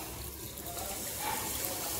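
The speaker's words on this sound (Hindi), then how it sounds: "और अब मैं इसमें डाल देती हूँ पानी।" Water is poured into a pan of roasted fresh green peas for a spicy dal, a continuous gushing, splashing stream that swells slightly toward the end, close and steady.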